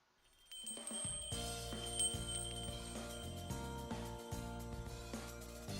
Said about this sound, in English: That was a long bell.